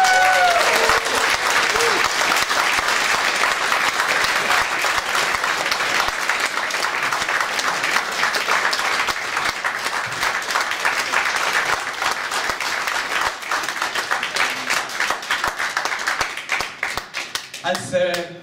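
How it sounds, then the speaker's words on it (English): Sustained audience applause for Peter Browning at a rubber community election gala, loud and dense clapping holding steady for most of the stretch before thinning into scattered claps near the end. "I would like you to applaud him"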